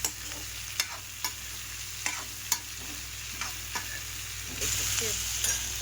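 Cumin and onion fry in hot oil, giving a steady sizzle broken by repeated sharp scrapes and taps of a spoon against the pan. Near the end a louder, brighter burst of hissing swells up, and nobody talks.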